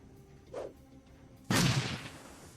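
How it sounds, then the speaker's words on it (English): A grenade explodes in the Shadowrun: Dragonfall video game, a single sharp blast that bursts out and fades over about a second, preceded by a softer short thump amid quiet background. "Of course I've got to throw a grenade"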